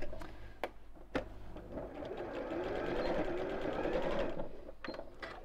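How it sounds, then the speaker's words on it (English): A sewing machine stitches down the ends of the cord channel on a drawstring pyjama bag. A few sharp clicks lead into a steady, close motor hum that runs for a few seconds and then tapers off. "I'm just going to sew the ends of that channel down."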